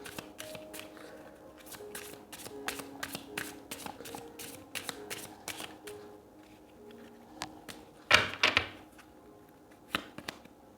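A deck of oracle cards being shuffled by hand, a steady run of soft papery riffles and taps close up, with a sharper burst of card noise near the end and no talk.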